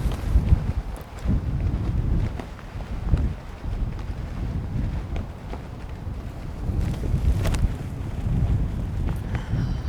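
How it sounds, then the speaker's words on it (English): A headwind buffets the microphone on a disc golf course, a loud, continuous rumbling roar with gusty swells and no clear speech. "Let's see how Ricky's Enforcer holds up in this headwind."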